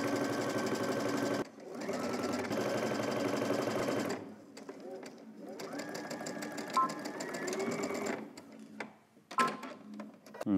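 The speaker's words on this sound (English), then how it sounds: "We're gonna start on one end and stitch all the way across this curve here and stopping at the other side," A sewing machine stitches in steady, rapid mechanical bursts along a curved collar edge, pausing briefly between runs and then starting again at a slower, more uneven pace near the end.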